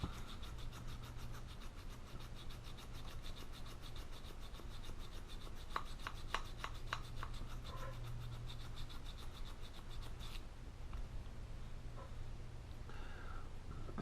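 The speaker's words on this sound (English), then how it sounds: "So I just use a stone, little Japanese, and I just rub it." A small Japanese whetstone is rubbed along a garden shear blade, a steady, quiet, rapid back-and-forth scraping that continues evenly throughout with no voices.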